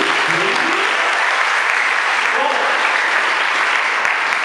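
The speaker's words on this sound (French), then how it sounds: "Est-ce que nous pouvons acclamer pour le Seigneur?" Congregation at a wedding blessing applauding and cheering for the Lord, a loud sustained wash of many hands clapping throughout, with voices mixed into the crowd noise.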